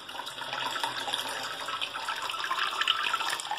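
Toilet cistern refilling after a complete flush kit replacement, a steady close hiss and gurgle of running water with no pauses, moderately loud and alone.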